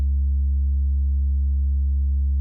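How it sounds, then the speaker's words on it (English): Deep sub bass synth tone recorded on a Korg Prologue, a steady pure low hum sustained evenly for the whole stretch with no variation, alone and without any other sounds. "I also have a sub recorded on the Korg Prologue."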